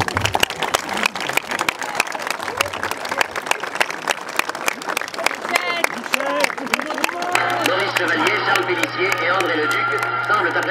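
Audience applause at a tribute to cyclist Louison Bobet in Quiberon, steady dense clapping throughout with talk over it, then a low steady hum and brighter sustained cheering tones in the last few seconds.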